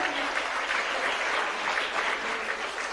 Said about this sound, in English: Let us all give a huge round of applause.